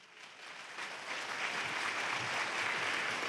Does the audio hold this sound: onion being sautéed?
no